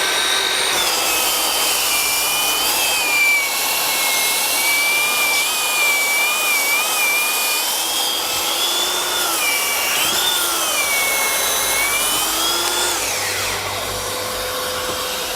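Makita 40v belt sander pressed hard into wood under heavy load, a loud continuous high-pitched whine and gritty rasp that wavers in pitch as pressure shifts, droning steadily throughout without any speech.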